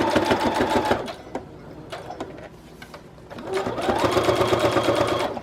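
A sewing machine stitches Christmas journal ephemera in two close, rapid mechanical runs with a quieter stretch of scattered clicks between them.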